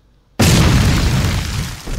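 A loud video game explosion bursts in after a brief quiet, a single heavy boom that rolls on with a rumbling tail for over a second, no talking over it.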